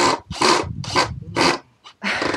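Wooden deck joists for a terrace being cut by hand, five loud rasping saw strokes in a steady rhythm with short pauses between, close and alone.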